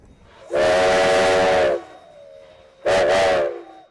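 A loud steam locomotive whistle on the Durango and Silverton narrow-gauge railroad blows twice: a long, steady blast, then a shorter one that wavers, ringing out strongly over a faint background.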